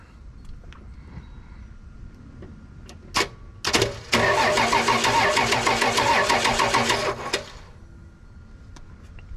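A 1980 Dodge D100 engine cranks over for about three seconds with a fast, steady starter whir after a couple of sharp clicks, close and loud, then falls quiet without catching.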